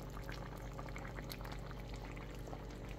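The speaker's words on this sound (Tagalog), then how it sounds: "Dagdagan natin ang suka." Vinegar poured into a pot of pork adobo simmering on the stove, a steady close stream of liquid over a dense, continuous bubbling boil throughout.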